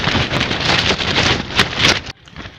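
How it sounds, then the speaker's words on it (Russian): Strong wind gusting across a frozen lake during winter ice fishing, a loud broadband roar with buffeting bursts against the microphone for about two seconds before dropping off abruptly to quieter rustling. "О, задул ветер."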